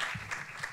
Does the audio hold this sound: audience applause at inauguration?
yes